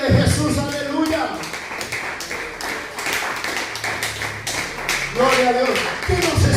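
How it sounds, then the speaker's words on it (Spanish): A church congregation claps during a Spanish-language sermon, with steady rhythmic clapping running the whole time under the preacher's loud voice, which rises and falls over it. "Aplauda el nombre de Jesús, aleluya."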